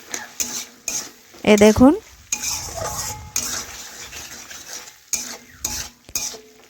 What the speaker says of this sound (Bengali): মশলা আমার অনেকটাই কষানো হয়ে গেছে।